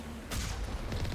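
Missiles exploding in the video game Mass Effect 1, heard as a brief, dense rumbling blast with a sudden louder swell midway through a constant noisy background.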